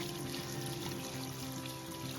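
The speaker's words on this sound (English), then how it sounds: "The pipe from the spring. I've got a nice little trough here." Spring water runs from a pipe into a trough at a trail shelter, a steady, soft trickle and splash that continues unbroken at close range.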